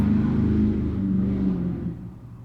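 A car engine revs in a low, rumbling rush that holds for a moment and then fades away.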